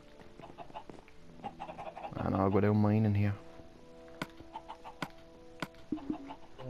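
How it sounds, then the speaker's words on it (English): Minecraft chickens give a brief burst of clucking, one loud warbling call mid-clip among scattered small game clicks and taps, with someone talking quietly over it. "Go down to my chickens."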